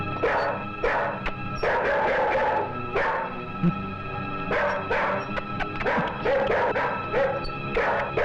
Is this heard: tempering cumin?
no